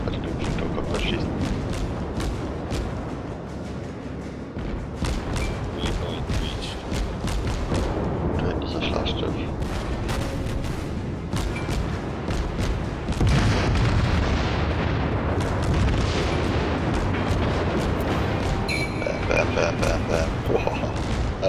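Naval gunfire and shell explosions in World of Warships, with repeated booming cannon shots and blasts layered over constant loud ship and ocean noise while someone talks over the action.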